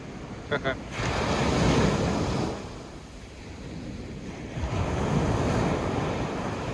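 Ocean waves wash onto a beach at Santa Cruz de La Palma in the Canary Islands at dawn, a broad rushing surge with wind buffeting the microphone, swelling and easing over several seconds, with a few brief tapping clicks near the start.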